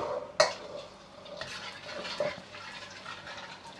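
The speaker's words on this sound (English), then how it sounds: "And then add the garlic in. Stir-fry until it's nice golden brown." Garlic stir-frying in coconut oil in a pan over low heat, a soft steady sizzle broken by a few sharp clinks and scrapes of a utensil against the pan.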